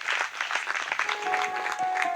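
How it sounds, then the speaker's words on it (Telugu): A church congregation claps together in a hall, a brisk, fairly loud spread of many hands that is steady throughout, with voices faintly mixed in. "ఒక్కసారి అందరం గట్టిగా చప్పట్లు కొడదామా?"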